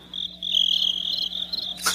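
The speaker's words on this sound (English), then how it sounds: "Crickets." Crickets chirp in a thin, steady trill, faint and continuous with no talk over it, ending in a brief noisy burst.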